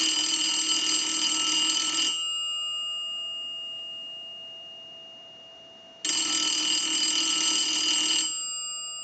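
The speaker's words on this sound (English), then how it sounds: "I'm going to go ahead and ring the unit with the analyzer." A 233G three-slot payphone's bell, rung by a line analyzer, rings twice, each loud metallic burst lasting about two seconds, separated by a long quiet pause.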